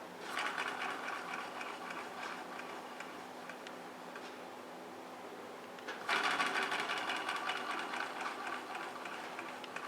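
A restored Singer sewing machine runs freely with a fast, even mechanical ticking that continues throughout and grows louder and busier partway through, heard close with no voices.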